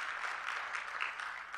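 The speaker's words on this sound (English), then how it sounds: "I want you to clap." A congregation claps together at a church gathering, a steady, fairly faint wash of many hands without distinct individual claps, no voices on top.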